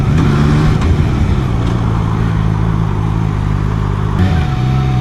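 ZXMOTO 500F inline-four motorcycle riding along, engine droning steadily and loud throughout with a brief dip and pickup in pitch near the end as it shifts up a gear.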